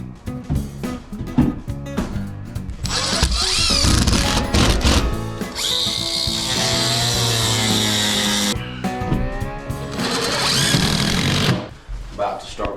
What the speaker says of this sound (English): You may be asking why we're using a grinder. It's got a diamond blade in it, and it's much easier to cut